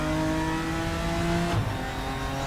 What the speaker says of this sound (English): I do love the sound of this car, it sounds so good.